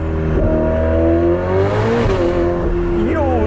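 A car engine revving hard as the driver floors it and the car slides sideways a little, a loud sustained roar with rising and falling pitch as the revs climb and shift, while people talk over it.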